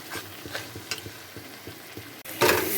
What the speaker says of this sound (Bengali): অল্প একটু জল দিয়ে এটাকে ভালো মতো কষিয়ে নেব